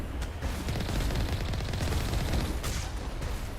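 Continuous video game gunfire in Mass Effect on Insanity difficulty: dense, loud bursts of shots in a firefight, with a few sharper cracks standing out from the steady barrage.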